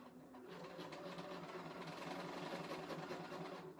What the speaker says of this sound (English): You just quilt like that.